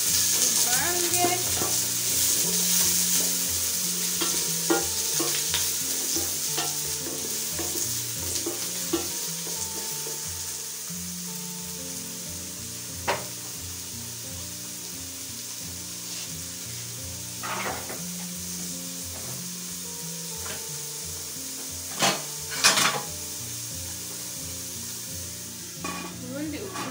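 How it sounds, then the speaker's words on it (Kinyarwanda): Carrots and onions sizzle softly in a frying pan while a utensil stirs them with intermittent scraping clicks, under a faint steady background hum. "hanyuma urafata karoti zawe n'ibitunguru ubishyiremo"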